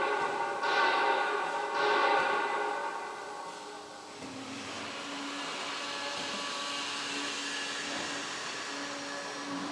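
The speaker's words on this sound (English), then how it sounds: "the coil material will be fed into the forming machine" Fence post forming machine running with coil steel fed through it, a loud steady mechanical whine and rumble with tonal hum, shifting pitch partway through and then droning on continuously.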